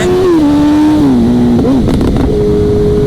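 A liter-class sport motorcycle revs hard and loud up close, engine pitch climbing and dipping through rapid shifts as it accelerates with the front wheel lifting, then holding a steady high tone.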